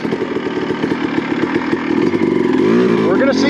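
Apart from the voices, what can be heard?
Honda CR250 two-stroke motocross bike engine idling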